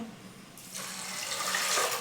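A kitchen tap is opened and water starts gushing after a short quiet moment, becoming a steady, close, bright splashing stream.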